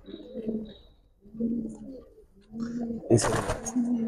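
Giribaz pigeons coo close by in three separate throaty bouts, with a sharp noisy burst partway through the last one.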